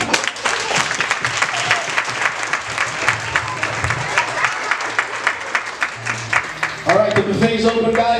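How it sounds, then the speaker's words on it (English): A crowd at an 80th birthday party claps in sustained applause, with a voice speaking over the clapping near the end. "round of applause for this wonderful man"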